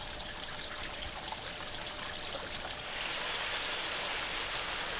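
A small river in Tibet rushes and burbles steadily in near-freezing weather, a continuous close water noise that swells slightly louder partway through.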